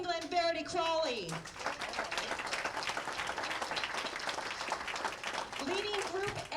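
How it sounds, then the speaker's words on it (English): Audience applause and clapping for a player being introduced at a professional women's bowling match play event, a steady wash of clapping running through the whole stretch, with an announcer speaking over the opening second. "please put your hands together"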